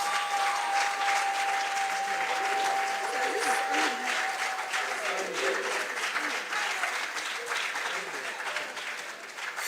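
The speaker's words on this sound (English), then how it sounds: "Another round of applause for our wonderful contestants" An audience at a national junior science and maths quiz championship gives steady applause for the contestants, a sustained dense patter of clapping at moderate volume that tapers slightly toward the end.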